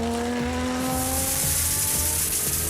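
A 47-year-old Datsun 240Z rally car on a tarmac stage of TARGA Tasmania roars past loud and near, engine note climbing through the gears with tyre noise, no voices.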